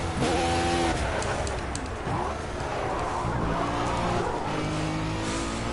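A race car in the Project Cars video game roars loud and near, engine pitch sweeping up and down through gear changes with tyre noise, a dense continuous mechanical whine and no speech.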